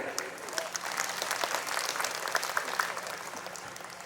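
A studio audience claps steadily for about four seconds to welcome a guest onto the stage at a Malayalam mimicry show, with dense, even applause and no talk.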